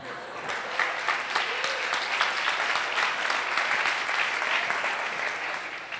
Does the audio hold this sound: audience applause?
yes